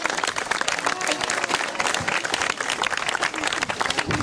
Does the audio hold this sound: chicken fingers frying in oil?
no